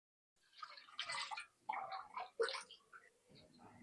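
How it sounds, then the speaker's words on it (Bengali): Broth is poured into a pan of tilapia curry with jackfruit seeds, papaya and potato, giving several close, uneven bursts of splashing liquid separated by short pauses. "আমি এখন ঝোল দিয়ে দিই।"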